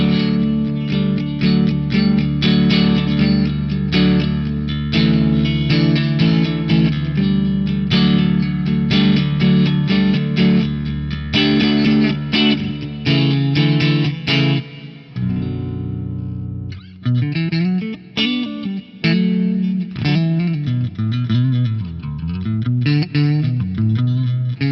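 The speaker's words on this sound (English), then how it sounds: "like a Fender amp sim on my XFX3 with some reverb" Electric bass played through a Fender amp simulator on an FM3 with reverb, sustained low notes and chords at first, then a bouncing melodic line, loud and continuous with no talking.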